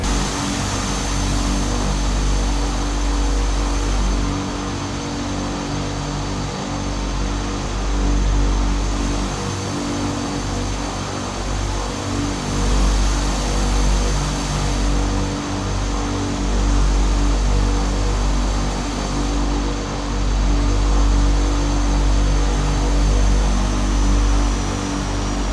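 A DHC-6 Twin Otter in Microsoft Flight Simulator 2020 sits on the runway at Kathmandu, its twin propeller engines holding a loud, steady drone with a slowly pulsing whine and no voices.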